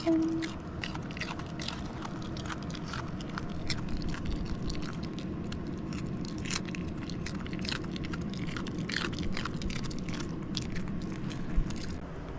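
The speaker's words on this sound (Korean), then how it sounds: "태풍이 안 먹으면 안 줘? 태풍 먹어." Dog chewing and crunching food, a run of close, faint bites and crackly crunches spread across the whole stretch, with a little background noise.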